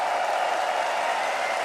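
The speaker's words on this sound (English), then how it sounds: "can we get a huge round of applause and a cheer for GH and Nigma Galaxy" Arena crowd at The International 2025 Dota 2 esports championship applauding and cheering, a dense, steady wash of clapping and voices filling the hall without pause.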